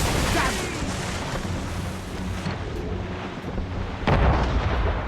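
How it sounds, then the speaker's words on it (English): A volley of ship cannon fire in the naval combat of Assassin's Creed Rogue: loud, rumbling blasts that blend into continuous roaring noise, with a sharper burst of fire near the end. "They're firing a volley!"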